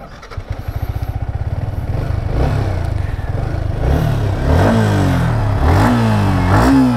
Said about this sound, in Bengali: let's start the bike